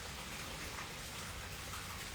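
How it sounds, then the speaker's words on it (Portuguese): Steady rain falling, a soft, even hiss of drops with no breaks, faint and continuous throughout. "Hoje nós mudamos o ambiente para aproveitar esse clima, essa chuva."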